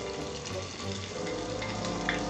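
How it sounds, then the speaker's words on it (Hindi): Ginger garlic paste hitting hot oil in a clay pot gives a steady, dense sizzle and crackle, fairly quiet and continuous throughout. "ये देखिए, सबसे पहले हम इसमें अदरक लहसुन का पेस्ट डालेंगे"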